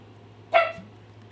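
A single short dog bark from a nearby pet, one sharp burst standing out over a quiet room with a steady low electrical hum.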